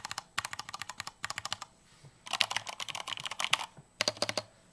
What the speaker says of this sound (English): The macros do a different noise.